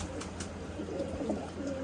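Pigeons coo steadily and close by in a low, murmuring run that fills the whole stretch, with soft flutters of other bird sounds mixed in and no talk.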